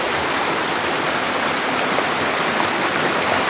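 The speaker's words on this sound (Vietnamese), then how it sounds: "Đây đây có nguyên một cái suối như vậy các bạn ơi." Steady broadband rush of water flowing in the Truc stream near Dau Tieng lake, a continuous close wash with no pauses and no voices.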